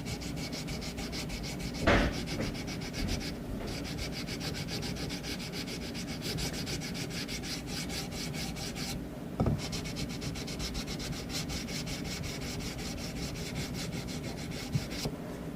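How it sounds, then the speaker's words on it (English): Fine 800-grit sandpaper rubs steadily along the fretboard of a Fender Telecaster, a continuous close scratchy hiss with a couple of brief sharper knocks and no talking. "really fine sandpaper. I think it's 800 grit"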